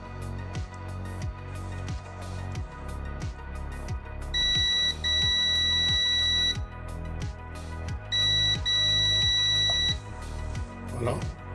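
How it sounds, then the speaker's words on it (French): A multimeter set to continuity beeps while testing a transistor's drain and case, two steady high electronic tones of a few seconds each, heard under a soft repeating background clicking. "Ça va biper."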